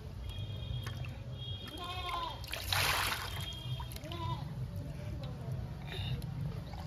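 Water splashing and sloshing during a small child's bath, soft splatters scattered through the clip with one louder burst in the middle, under ongoing talk.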